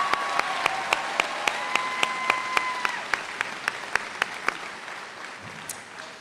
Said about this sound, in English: Could we give both of those speakers another round of applause